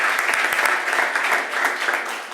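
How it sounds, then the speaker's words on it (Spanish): Audience at a logistics and fleet technology event gives a steady round of close, full applause for the next guest, unbroken for the whole stretch. "Un aplauso."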